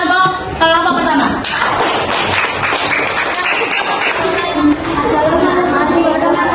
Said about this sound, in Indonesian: kita beri tepuk tangan untuk kelompok pertama.